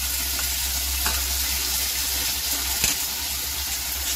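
Vegetables fry in a pan with red chili sauce for chilli potato, producing a continuous close sizzle with occasional stirring clinks and scrapes, no speech.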